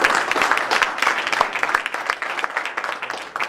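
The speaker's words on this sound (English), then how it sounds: "I'd just like a round of applause for all the participants today" An audience gives a round of applause for start-up pitch participants at a health care and life sciences competition, close, lively clapping with distinct individual claps standing out.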